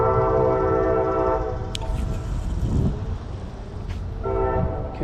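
A passing train heard near a fishing spot: a steady low rumble of rolling railcars with bright horn-like tonal bands at the start and end, loud and continuous throughout.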